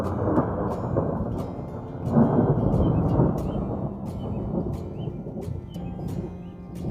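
Outdoor thunder rolls as a deep, continuous rumble that swells around the two-second mark and then eases but never stops, with faint bird chirps above it.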